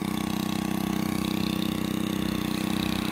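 An engine-powered hedge trimmer cuts bushes with a steady, droning engine buzz, close and constant, with no talking.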